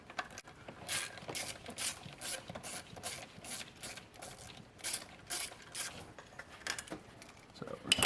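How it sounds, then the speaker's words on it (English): Wrench ratcheting as bolts come out of the mass air flow sensor on a GM 3.8 3800 V6, a fast series of close mechanical clicks in bursts, with no talking. "we're going to go ahead and take these bolts out"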